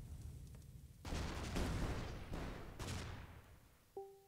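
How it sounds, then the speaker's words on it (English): Bouncing bloat-weapon blasts in the Shellshock Live artillery game: a sharp burst near the one-second mark and two more around 2.3 and 2.8 seconds, each with a noisy decaying tail, followed by a brief tonal blip at the end. "I'm going to put a bounce bloat in there on him."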